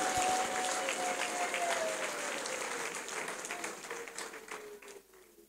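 A congregation claps during a sermon, dense sustained applause that gradually fades toward the end, with a faint tonal sound gliding beneath it.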